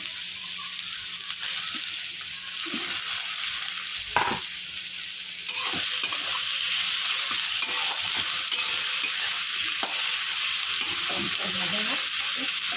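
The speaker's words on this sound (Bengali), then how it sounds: "রসুন সব ভাজা ভাজা হয়ে গেছে, এবার আমি একটা মধ্যে টমাটো দিয়ে দেবো" Garlic and tomato fry in a pan with steady sizzling, broken by a few scraping stirs and clinks at close range; no voice is heard.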